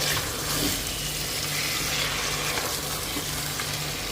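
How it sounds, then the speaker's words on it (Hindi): Mutton browning in a pan for a dhaba-style white mutton stew, giving a steady, moderate sizzle of frying with a faint low hum underneath, continuous throughout and without speech. "तो मटन की भुनाई करते हैं।"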